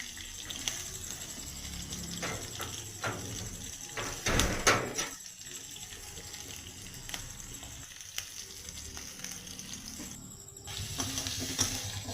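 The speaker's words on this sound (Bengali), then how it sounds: "এবার মশলায় একটু পেঁয়াজ দেবো, লঙ্কা দেবো, দিয়ে ভেজে নেবো ভালো করে" Onion and chili frying in spice masala in a pan for chicken chowmein, a steady close sizzle with a few louder stirring clatters midway and near the end, no talk.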